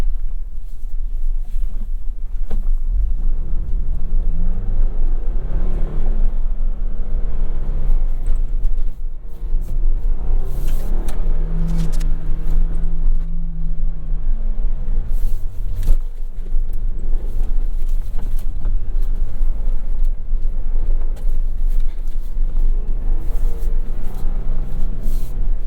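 A 2023 Ford Bronco Heritage with a seven-speed manual runs a lap in four-wheel-drive high, its engine droning loud and steady with rising and falling revs under heavy wind buffeting, no talk heard.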